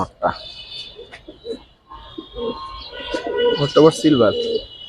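Doel pigeons coo repeatedly in soft, throaty bursts close by, with someone talking over them and a faint high whine in the background.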